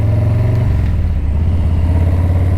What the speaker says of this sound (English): in terms of sound, this is the best fucking sounding exhaust I've heard.